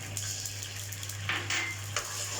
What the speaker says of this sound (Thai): คั่วให้มันเหนียว